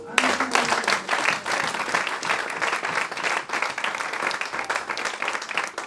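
A church congregation applauding, dense sustained clapping filling the room, with some voices audible beneath it.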